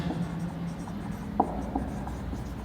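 Chalk or marker scratches across a board during a biology lecture, with soft scraping strokes and a couple of sharper taps spread over a few seconds of quiet room noise.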